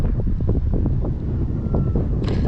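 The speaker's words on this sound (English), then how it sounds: "yeah, it's windy" Strong gusts buffet an outdoor microphone at an RC flying field, a loud, low, constant rumble with irregular thumps that swamps everything else.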